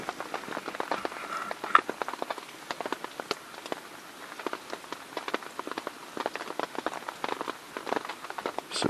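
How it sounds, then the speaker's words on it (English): Rain falls at night in a steady patter of drops striking a nearby surface, with many crisp individual hits, soft and continuous with no voices. "listening to the rain."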